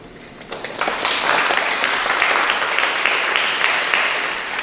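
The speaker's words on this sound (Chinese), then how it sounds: "是不是给我们所有台湾人自己一个掌声" Audience at a university anniversary talk breaks into applause, rising quickly from a lull and then holding as a loud, dense wash of clapping for several seconds before easing slightly.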